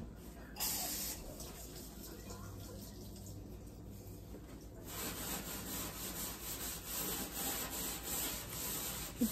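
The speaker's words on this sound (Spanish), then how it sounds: "aquí le estoy tallando con un estropajo de fierro, pero el fierro que no raya" A stove being scrubbed with a non-scratch steel scouring pad, soap and water: steady close rubbing and scraping strokes, quieter at first and then louder and more continuous, with no talking.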